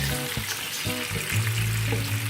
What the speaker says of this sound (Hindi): चिकन को इसमें फ्राई करेंगे 2 से 3 मिनट।